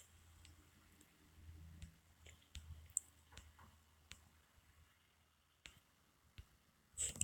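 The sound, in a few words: typing on a keyboard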